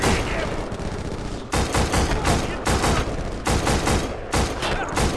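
Sustained gunfire in the PS2 war shooter Black, loud and close, coming in dense rapid bursts separated by brief pauses.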